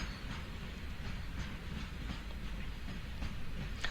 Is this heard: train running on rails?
yes